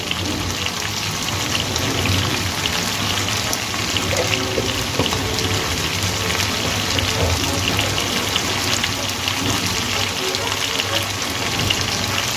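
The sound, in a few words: pouring water into spice paste in pan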